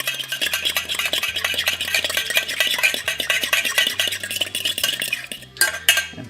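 Butter being stirred into a lemon juice sauce in a pan off the heat, with a steady run of quick scraping and clinking utensil strokes against the metal, loud and continuous, with no talking.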